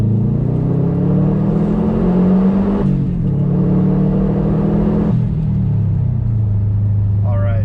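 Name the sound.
car accelerating hard in second gear with Perrin cold air intake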